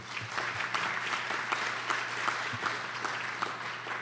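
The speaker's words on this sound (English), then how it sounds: "So a round of applause for Huntington." Audience applause at a community development summit keynote, steady clapping at moderate level with a low hum underneath.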